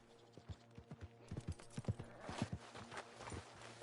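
Horse hooves clip-clop in an uneven walking rhythm in the video game Red Dead Redemption 2, a dozen or so sharp knocks over a steady low hum, with a faint whinny mixed in.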